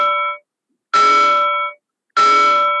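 A bell sound effect marking a scene change in an improv game rings three times, loud and clear with a ringing decay and brief silences between strikes, over an online Zoom session.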